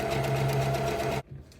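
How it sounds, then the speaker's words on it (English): A sewing machine stitches ribbon onto a skirt in one rapid, steady burst of close mechanical whirring that cuts off abruptly, followed by a few soft handling sounds. "Once I start sewing, it's going to catch both sides."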